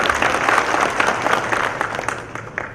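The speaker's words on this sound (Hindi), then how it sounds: "आपको ताली बजाना चाहिए इस पर।" Audience at a bridge engineering lecture on DPR preparation claps steadily and fairly loudly for nearly three seconds, a dense patter of hands tapering slightly toward the end.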